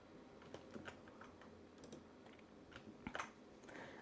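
Quiet, scattered keystrokes on a computer keyboard as copy, cut and paste shortcuts are typed, a handful of light clicks in irregular bursts with a slightly louder cluster near the end.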